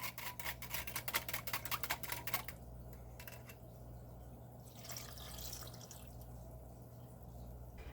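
Sugar water mixture poured into a saucepan of Concord grapes, a close, rapid splashing pour for a couple of seconds before it settles into quiet, softer liquid sounds.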